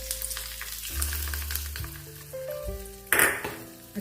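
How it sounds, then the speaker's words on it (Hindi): Hot tadka of oil, mustard seeds, asafoetida and curry leaves sizzles over raw mango chutney, a steady close fry ending in a sharp burst of hiss and a light clink of a pan or spoon. "इसके ऊपर डाल देंगे अपना तड़का।"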